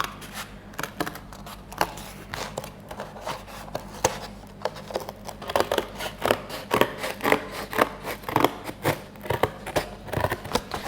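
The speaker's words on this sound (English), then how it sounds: "I'm using quite thin cardboard and that's how I've managed to use my scissors" Scissors snip repeatedly through thin cardboard up close while cutting pieces for a cardboard gingerbread house, a quick irregular series of crisp cuts and rustles that grows busier toward the end.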